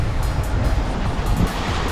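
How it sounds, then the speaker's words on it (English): Heavy sea surf and gusting wind roar steadily around a sailing boat crossing open water, a dense continuous wash with rolling swells and wind buffeting the microphone, no voices. "Massive waves coming in."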